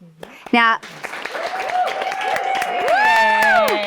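Studio audience on a cooking talk show claps and cheers, a lively burst of applause with whoops and sustained whistling tones running through it, fairly close and loud for several seconds.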